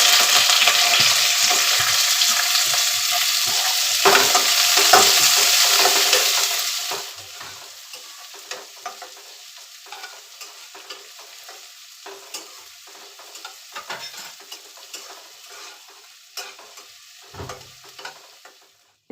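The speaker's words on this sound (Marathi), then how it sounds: "इथे मी कांदा परतून घेतल्या" Onion and curry leaves frying in a hot kadhai, with a loud dense sizzle for the first several seconds, then a quieter crackle with scattered pops and stirring scrapes close by, and no voices.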